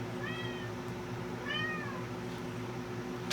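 A talkative house cat meows twice in rising and falling calls, close and clear, over a steady low hum from an old Macintosh Classic II computer, with a faint click at the end.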